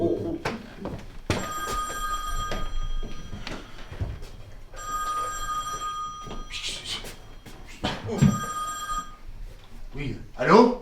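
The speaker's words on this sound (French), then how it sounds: "Enfin, Nicole, qu'est-ce que c'est que ce téléphone?" A telephone rings in a French home, several bell-like ringing bursts separated by pauses, loud and close, with people talking between and over the rings.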